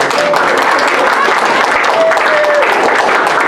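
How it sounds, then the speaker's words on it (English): A crowd applauds loudly, with dense, steady clapping throughout. "Give a clap for trees."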